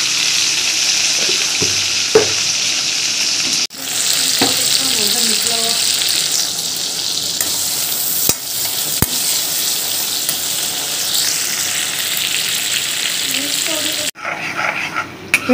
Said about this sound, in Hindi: तो टमाटर को भी अच्छे से गलने देते हैं, तो टमाटर गलने के लिए इसमें डाल देंगे नमक